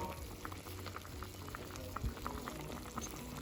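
A pot of Japanese chicken curry with potatoes and carrots bubbles at a steady simmer, soft popping blips rising through a constant low, moderately quiet boil.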